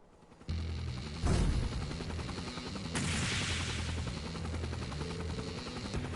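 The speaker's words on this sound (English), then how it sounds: "A personal aircraft, huh?" A personal aircraft engine in the game Hajimari no Kiseki, a steady whirring drone that rises in sharply at the start, with a heavy thump soon after and a brighter rushing swell near the middle, sustained and loud.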